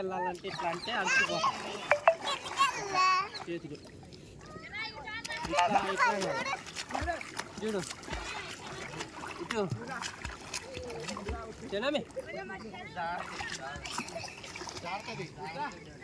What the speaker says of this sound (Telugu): పిల్లగాళ్ళకి ఈత ఇలా కొట్టాలి ఇలా కొట్టాలని చూపిస్తుంది